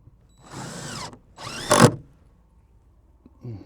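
A cordless drill drives screws into a greenhouse frame in two short whirring bursts, the second ending in a louder strained grind as the screw seats, followed by quiet and a faint clunk.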